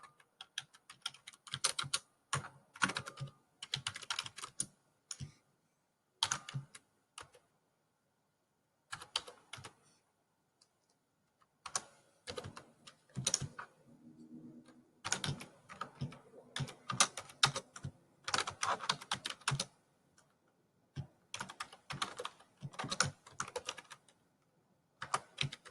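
Typing on a computer keyboard while entering data into a PowerPoint slide, bursts of quick close key clicks separated by short pauses, with no talk over it.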